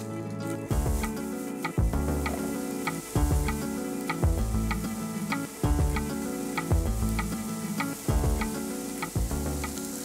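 Eggplant pieces fry with bacon in a pan, giving a continuous sizzle broken by regular sharp clicks and taps of a utensil stirring against the pan.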